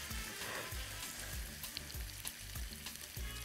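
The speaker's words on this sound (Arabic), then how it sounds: "نحمر الكوسه شويه، نحمر البطاطس شويه" Zucchini and potatoes frying in a pan, a steady close sizzle and crackle of hot oil that continues throughout without voices.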